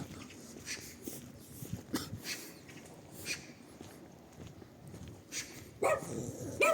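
A dog barks a few times in short, scattered bursts at moderate distance on a residential street in Truskavets, under steady outdoor ambience and faint street noise.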